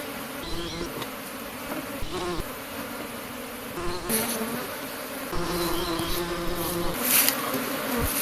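Honey bees buzz around a Kenyan top bar hive during a honey harvest, a close, continuous drone with individual bees swelling louder as they pass near, plus a few scattered handling noises and no talk.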